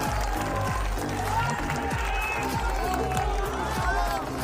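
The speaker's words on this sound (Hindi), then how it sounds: "सब कार्यकर्ता एक बार अपने लिए ताली बजाएं" Party workers at a post-election gathering applaud in a dense crowd, a steady patter of many hands clapping for several seconds, with a distant voice and a low rhythmic thump underneath.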